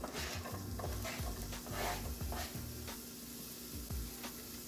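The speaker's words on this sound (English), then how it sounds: "I am going to saute some onions" Onions sautéing in a pan, a soft steady sizzle with repeated spatula stirs and scrapes against the pan, close and fairly quiet.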